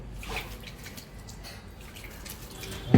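Water trickles and splashes into a chicken masala of corn flour and turmeric for a whole grill chicken, a soft, steady pour close by with no voices.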